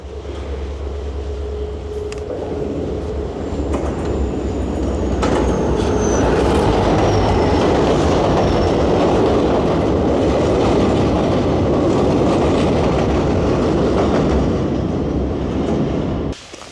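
A train rumbles steadily past at close range while crossing a bridge in Talkeetna, Alaska, with rhythmic clacking wheels and faint metallic squeals, growing louder and holding strong for many seconds.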